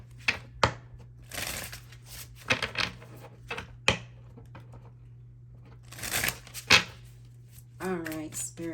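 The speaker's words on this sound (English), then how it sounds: "let me do a quick shuffle for you" Tarot cards being shuffled by hand, with intermittent riffling and tapping bursts close by, mixed with a voice talking and a steady low hum in the background.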